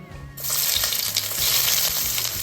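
Chopped onions hit hot oil that already holds bay leaves and dried chilli, and a loud, steady sizzle bursts in after a brief quiet start. Scraping stirs break through the close, hissing fry.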